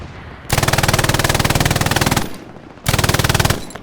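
Two long bursts of rapid, evenly spaced machine gun fire ring out loud and close in the World War II shooter Hell Let Loose, the first lasting nearly two seconds and the second shorter after a brief pause.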